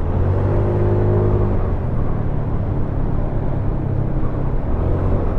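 A four-stroke scooter engine running on S-Oil Seven oil, a loud, steady close-up drone with a constant whirring hum and low rumble, a faint tonal whine easing off early on, and no talking.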